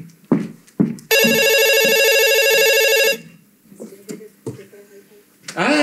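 A telephone left behind rings with a loud electronic ringtone for about two seconds on a theatre stage, framed by short spoken exclamations before and voices afterward.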